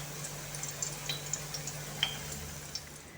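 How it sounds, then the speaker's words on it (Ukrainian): Soft sizzling and crackling of cheese-filled potato pancakes frying in a pan, with scattered small pops over a low steady hum. "І продовжуємо смажити."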